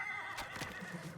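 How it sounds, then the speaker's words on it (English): Horses neigh and whinny in the Conqueror's Blade video game, a couple of loud, bright calls standing out above a steady backdrop of battle noise and faint hoof clatter. "What have we got here? Some horses."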